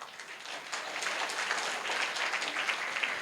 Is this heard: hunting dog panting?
no